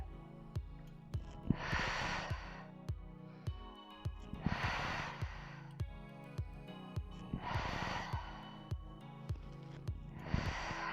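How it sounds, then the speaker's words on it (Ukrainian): Deep breaths during a lymphatic drainage exercise routine. There are four slow, loud inhale-exhale cycles close up, evenly paced, with faint rhythmic ticking in the background. "І зараз подихаємо вдих. Видих."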